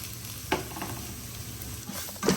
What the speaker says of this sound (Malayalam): ഇനി പച്ചമണം മാറുന്നത് വരെ ഒന്ന് വഴറ്റി കൊടുക്കുക